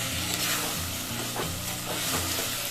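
Onions, ginger garlic paste and tomatoes sautéing in a pan make a loud, steady sizzle with rhythmic stirring scrapes, close and continuous, no voices.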